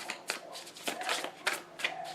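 Tarot cards are shuffled by hand, a quick run of crisp riffling flicks repeating several times in close succession, near and fairly quiet with no talk.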